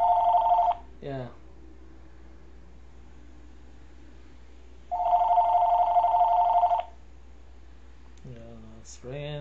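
A telephone rings twice, each ring a long electronic trill lasting under a second to nearly two seconds with a gap of about four seconds, and a voice speaks briefly after each ring.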